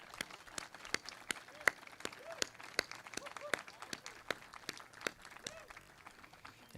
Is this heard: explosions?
no